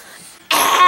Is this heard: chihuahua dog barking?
no